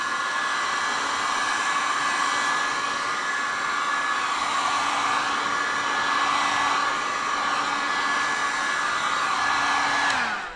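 Hot air gun blowing to dry paint on a boat, a loud, steady close whoosh that runs unbroken for about ten seconds before cutting off.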